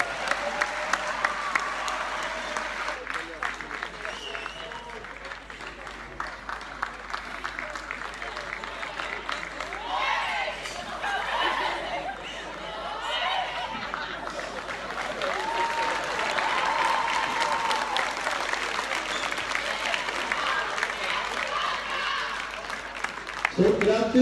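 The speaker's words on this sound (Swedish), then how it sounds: "Ge han en applåd." An audience applauds a winner at the awards of a youth sports cup tournament, long sustained clapping that swells and fades over many seconds, with crowd murmur and a voice or two mixed in.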